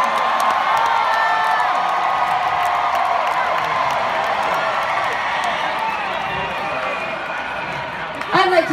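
A large arena crowd at a concert cheers and shouts in a sustained, roaring wash of noise, with a sharper burst of whoops and applause near the end.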